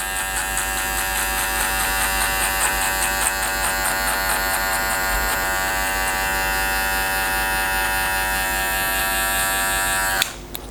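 Electric hair clippers with the blade open buzz steadily and close by while cutting a skin fade, a continuous high whine that cuts off with a sharp click near the end.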